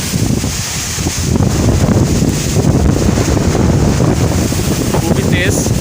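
Strong, gusting wind roars steadily through a village ahead of a cyclone, a loud broadband rush buffeting the microphone from start to finish, with no clear voice.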